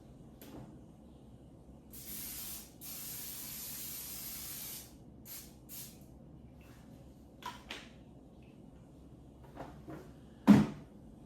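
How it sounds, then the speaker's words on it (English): Several bursts of olive oil spray hiss close by into a Power XL air fryer, one long spritz and shorter puffs, followed by light clatter and a sharp knock of handling. "I'm just gonna spray this Power XL with a little olive oil."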